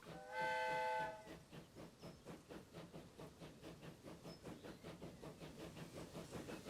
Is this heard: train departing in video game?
yes